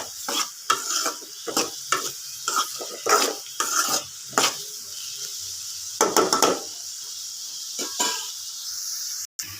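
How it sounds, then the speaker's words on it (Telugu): Onions fry in a pan while a spoon stirs them again and again, giving close, irregular bursts of scraping and clinking over a soft sizzle, without talk. "మధ్య మధ్యలో ఇలా తిప్పుతూ ఉండాలి."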